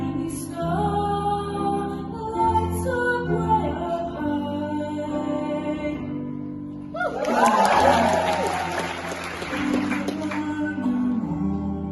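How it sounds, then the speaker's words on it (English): A concert audience breaks into applause and some cheering for a choir soloist right after sustained choral singing and piano, with the clapping bursting in at once and continuing to the end. "Listen to how the audience applauds every soloist that sings in this concert"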